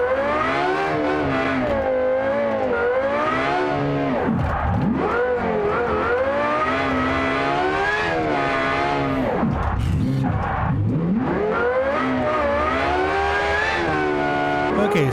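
A custom Automation-built stunt car engine in BeamNG revs loudly and is lugged low, with its pitch rising and falling repeatedly through sweeping climbs and dips and brief drops between gears, close and continuous.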